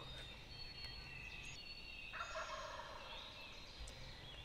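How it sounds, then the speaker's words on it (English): Wild turkeys gobble at a distance during a Pennsylvania spring turkey hunt, several faint rolling gobbles against quiet outdoor background noise, with no talking. "the birds gobbled like twice to it"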